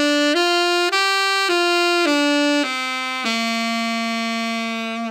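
Saxophone plays a five-note pentatonic scale as a sequence of sustained, clearly separated tones stepping through the notes and ending on a longer held note, close and solo with no voices.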